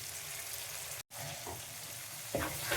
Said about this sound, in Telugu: ఆనియన్స్ ఇలా ఫ్రై అయిన తర్వాత 1 టమాటో యాడ్ చేస్తున్నాను.